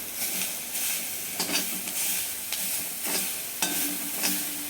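Carrot thoran sizzling in a pan while being stirred, with soft scraping strokes recurring every second or so over a steady frying hiss, close and moderately loud, no voices.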